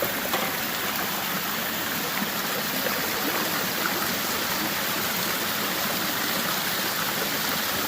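Waterfalls spilling into a natural swimming pool make a steady, loud rush of splashing water that runs on unbroken, close by, with no voices.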